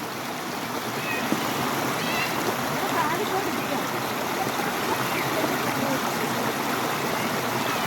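Shallow, very cold stream flowing steadily around people sitting with their feet dipped in the water; a continuous rushing trickle fills the whole stretch, with faint voices in the background.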